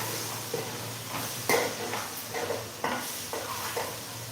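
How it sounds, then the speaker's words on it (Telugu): Onions frying in a pan, a continuous sizzle broken by periodic scrapes and clinks of a spoon stirring, close and steady with no talk. "ఆనియన్స్ అయితే బాగా ఫ్రై అయిపోయి"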